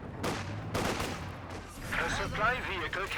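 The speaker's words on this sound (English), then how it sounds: "There goes the mortar." Mortar firing in Company of Heroes 2, with sharp booming reports and blasts over a busy battle soundscape while a commentator talks.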